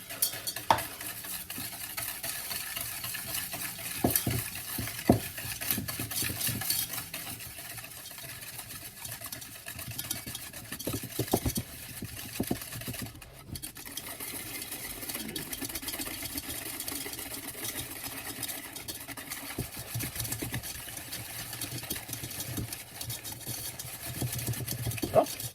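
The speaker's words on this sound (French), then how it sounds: "Et battre le sucre avec les jaunes d'œufs jusqu'à ce que le mélange blanchisse." Sugar and egg yolks for a cake are beaten in a bowl, a steady whisking and stirring texture with scattered clicks that runs throughout at low volume.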